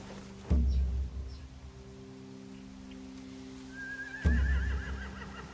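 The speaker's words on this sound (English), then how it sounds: "They have horses." Horses whinny in a barn scene from The Walking Dead video game, with two loud neighs, one near the start and one near the end, over a steady low hum of ambient background.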